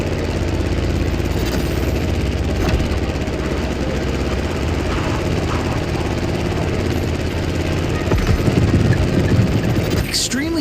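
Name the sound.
airplane engine in The Crew Motorfest video game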